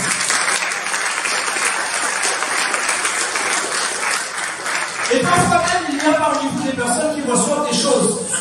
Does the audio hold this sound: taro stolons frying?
no